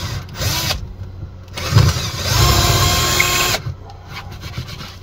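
A power drill whirs in close bursts, a short one then a longer sustained grind through a stainless steel bowl, ending abruptly.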